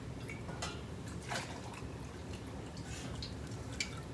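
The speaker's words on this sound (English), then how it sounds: "I'm putting that water back in there to top it off." Hot water pours steadily into a Presto canner pot, topping up over jars of ginger-loquat jam with a low liquid rush and soft dripping splashes throughout.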